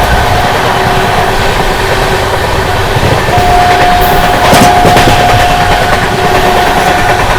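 A Humsafar Express train races at high speed through Aligarh Junction, with a loud continuous roar of wheels and rails from inside and a passing tonal whine midway.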